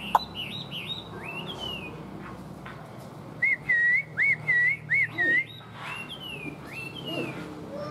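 A tame caged Chinese hwamei songbird, not yet in full song, sings clear whistled phrases and chirps. Midway comes a loud run of five or six repeated whistled notes over a faint background hiss.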